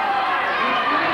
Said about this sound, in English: Our crowd are going crazy